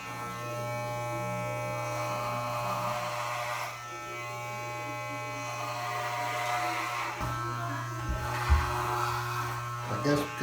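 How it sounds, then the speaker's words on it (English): An electric hair clipper shaves a head with a steady, loud, close buzz that runs throughout and has a few small shifts in tone. A voice is heard faintly under it. "So now I'm about to start off with the first shave with the razor or the clipper"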